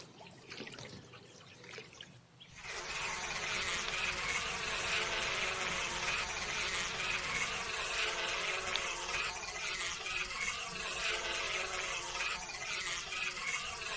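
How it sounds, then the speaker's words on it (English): A dense swarm of bees buzzes loudly and steadily in the PC adventure game Wrath of the Gods, a continuous droning hum that swells in abruptly and fills the scene without any talk. "Look at all these bees."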